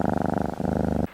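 A car engine idling with a soft, cat-like purr: a steady, rhythmic low throbbing that pulses evenly for about a second, then cuts off abruptly into near silence.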